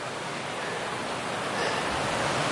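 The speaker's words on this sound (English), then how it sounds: "But sweet little waterfall here." Small mountain waterfall along a hiking trail, a steady broadband rush of falling water, close and continuous with no voices over it.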